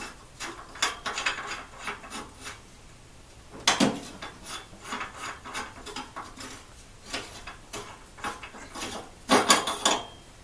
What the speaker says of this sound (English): So we'll take that nut off.